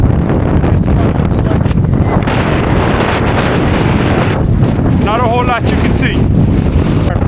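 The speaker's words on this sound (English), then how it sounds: "Sorry about the wind" Heavy wind on Mount Brandon, County Kerry, buffets the microphone throughout, a constant low roar with gusty rumble, while someone talks over it.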